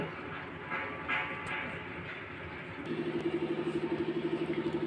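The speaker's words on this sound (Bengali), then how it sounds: "এখন আমি এটা পাটায় বাটবো না, কিন্তু এটা আমি ব্লেন্ডারে করে নিব।" A blender motor roars steadily, then settles into a loud, rhythmic pulsing churn as it grinds drumstick flowers into a mash.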